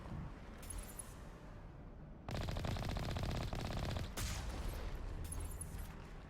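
Turrets firing in Mass Effect Legendary Edition: a quiet low rumble, then a sudden loud burst of rapid machine-gun-like fire lasting a couple of seconds before settling back to a steadier background rattle.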